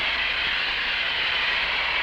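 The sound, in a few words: blast of hot steam on Mylar plastic film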